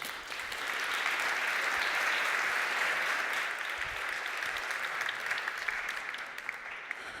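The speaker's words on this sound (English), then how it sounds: "Please give a big round of applause." An audience at a tech talk applauds a speaker taking the stage, a dense, even burst of many hands clapping that holds steady and tapers slightly at the end.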